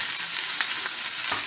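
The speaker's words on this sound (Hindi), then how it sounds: "देखिए, मैंने ये पीस रख दिए फ्राई करने।" Beef pieces frying in a pan for hunter beef give a steady, close hiss of sizzling oil with small crackles and pops scattered through, with no voices over it.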